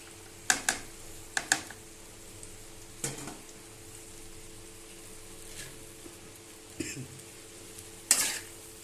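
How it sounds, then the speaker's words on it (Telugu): Chopped ivy gourd (tindora) stirred into browned onions in a pan: faint background sizzle with occasional scraping and clinks of a utensil against the metal, spaced irregularly, close and without speech. "ఒకసారి దొండకాయలు కూడా నీట్గా ఇలా కలుపుకోవాలి ఫ్రెండ్స్"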